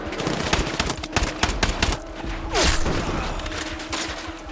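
M411 gunfire in the Battlefield 6 video game: rapid bursts of automatic shots crackle close and loud, with a dense, steady rattle of fire across the whole stretch.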